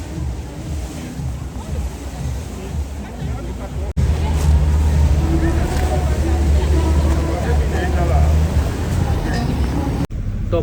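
A boat ride on the water near Hamburg brings a steady rush of waves and wind buffeting the microphone, which swells louder partway through, while people talk over it.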